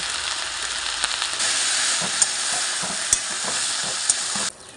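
Potatoes and onions frying in a pan with salt and chilli, stirred steadily: a loud, dense sizzle throughout with a few sharp scrapes of the spoon against the pan.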